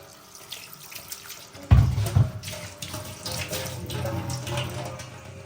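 Water poured into a clay dish to soak roti, a sudden splashy gush that trails into a softer running trickle, close and fairly loud.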